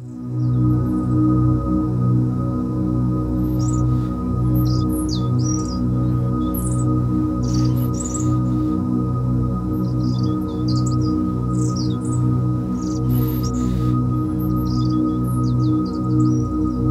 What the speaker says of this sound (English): So you can hear that there's a gentle fade in and fade out on the bird song.